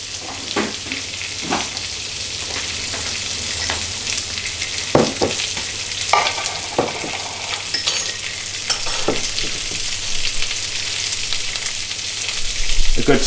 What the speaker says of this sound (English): So I'm going to add the carrots to that. We'll just toss them off in the butter there.